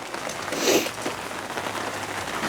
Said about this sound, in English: Now it's raining ice